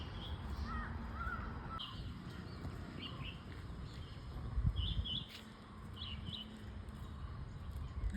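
Crows and other birds caw and call around a school in Bangalore, with scattered, fairly faint calls over a soft outdoor background and no speech.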